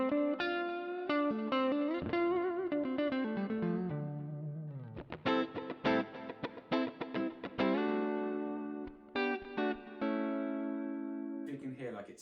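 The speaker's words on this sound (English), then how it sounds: "If I turn on the delay now" Electric guitar notes and chords run through the delay effect of a Tech 21 FLY Rig RK5 pedal, each phrase trailing off in repeating echoes with a slight wavering shimmer.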